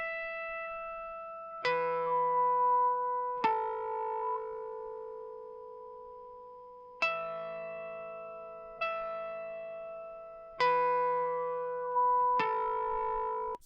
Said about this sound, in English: Let's do one more sweep on this high end, see if there's anything left.